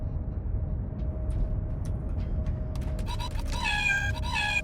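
A cat gives two drawn-out, wavering meows near the end, after faint clicks over a steady low background hum and a thin constant tone.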